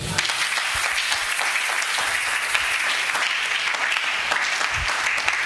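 A church congregation applauding, a steady, dense wash of many hands clapping that carries on without a break and holds an even loudness throughout.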